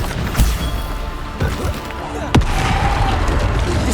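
Bombarda explosion spell in Hogwarts Legacy, a few sharp booming blasts and cracks amid game combat noise, the loudest burst near the end.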